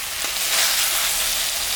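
Spice paste for pangas fish curry sizzles in a hot pan, a short burst of steady, bright frying hiss, loud and close, with no talking.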